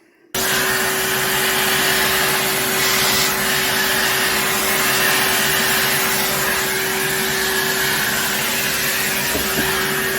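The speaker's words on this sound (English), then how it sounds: "Let me just get Henry and hoover that lot up." A Henry vacuum cleaner hoovers up polystyrene debris on a model railway table, starting abruptly and then running as a loud, steady, close-up whine with a constant tone for about ten seconds.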